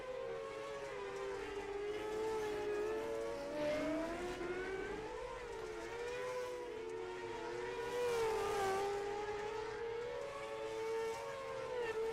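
Sprint car engines howl together during an iRacing league race, a loud sustained high-pitched whine that rises and falls steadily in pitch as the cars run laps, with no talk over it.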